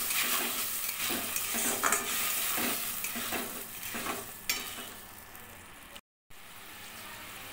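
Mustard paste sautéing in a pan for a raw mango and mourala fish dish, with steady sizzling and intermittent stirring scrapes, close and moderately loud, broken by a brief silence near the end.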